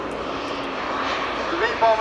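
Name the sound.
large model Vulcan and Victor V-bombers flying, gas turbines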